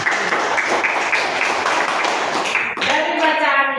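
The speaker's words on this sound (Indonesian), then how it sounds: "Mari kita tepuk tangan dulu untuk teman." Elementary fourth-grade pupils in a classroom clap their hands together: a quick, close run of rhythmic claps, then children's voices chanting briefly at the end.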